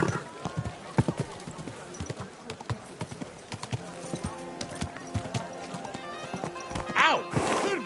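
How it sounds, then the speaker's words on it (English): Hooves clip-clop in an uneven rhythm, then a horse whinnies near the end, with a voice speaking quietly beneath the sounds, in the video game Kingdom Come: Deliverance II. "Easy, good horse."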